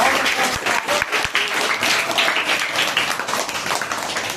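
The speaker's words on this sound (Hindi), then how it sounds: "ताली बजा दो।" A crowd applauds continuously, a dense, steady patter of many hands clapping at once.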